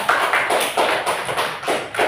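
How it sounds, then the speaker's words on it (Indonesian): Classroom of students clapping in bursts, a few loud rounds of claps close by, with no talking over them. "Tepuk tangan"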